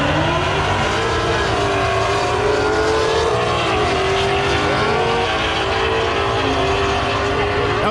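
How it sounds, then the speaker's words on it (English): Drag racing cars at Friday night drag racing at Texas Motor Speedway roar loudly and continuously, with engine pitch sweeping and shifting as they run down the strip. "That was a good race."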